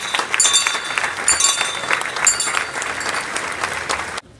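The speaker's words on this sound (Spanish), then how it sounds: "Fuertes aplausos a nuestra madre" A church congregation at the Virgen de la Candelaria festivities in Valladolid, Yucatán, breaks into loud applause for the Virgin, a close, dense burst of clapping with surging peaks that cuts off abruptly near the end.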